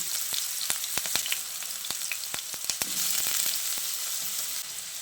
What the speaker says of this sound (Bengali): তেল ভালোভাবে গরম করে নিয়ে এবার আমি এখানে 2টো মিডিয়াম সাইজের আলু এরকম একটু ডুমো ডুমো করে কেটে দিয়ে দিচ্ছি।